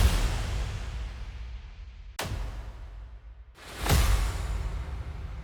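Deep cinematic trailer hits for an epic soundtrack land on the beat, each one a sharp booming impact over a low rumbling bed. Two distinct hits stand out, with the second swelling louder, and no voices are heard.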